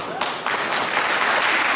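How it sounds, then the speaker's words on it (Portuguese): Dense applause from an audience at a church gathering, a steady wash of clapping that swells after a brief moment and continues throughout. "um aplauso bem forte para o pastor Ítalo"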